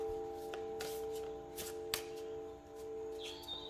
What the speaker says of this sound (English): So I'm going to be pulling 2 more cards, and then I will interpret